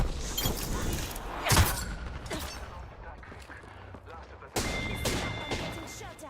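Video game gunfire crackles in loud bursts, with a sharp impact near the middle and another heavy volley toward the end, mixed with clattering effects while players talk over it.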